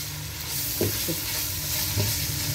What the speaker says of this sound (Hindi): ये 400 ग्राम चिकन है जो बॉईल करके इसके पीसेस कर लिए हमने। इसको अच्छी तरह से हम करते हैं फ्राई।